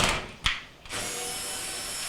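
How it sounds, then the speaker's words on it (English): A power driver fitted with a Torx bit spins out the bolts of a washer's lock assembly during a leaking Amana washer repair, a brief click followed by a steady, fairly close mechanical whir that holds to the end. "we're going to take our Torx bit to the lock assembly"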